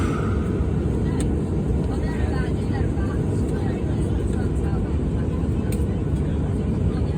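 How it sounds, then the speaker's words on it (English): A Jet2 Boeing 737 airliner roars loudly and steadily as it takes off from Antalya, Turkey, a broad continuous engine rumble heard from inside the cabin, with faint voices beneath. "It's the roar of this plane."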